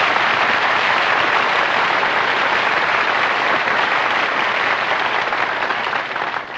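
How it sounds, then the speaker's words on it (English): An audience applauds loudly and steadily for several seconds, then fades slightly at the end. "Who's applauding you? The waiters."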